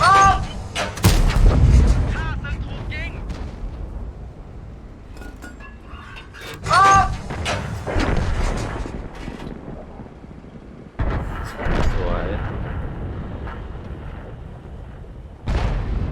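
Heavy artillery-style booms and gunfire from a tank combat video game, several loud blasts spaced apart with rumbling decay and a voice talking at times in between.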